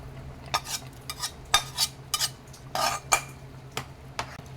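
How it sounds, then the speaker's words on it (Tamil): Mashed dal being stirred into a pot of chow chow sambar, with a run of close, irregular scraping and clinking spoon strokes against the vessel over a low steady hum, no voices. "பருப்பு ஊற்றுனதும் இந்த மாதிரி நல்லா கிளறி விட்டுருங்க"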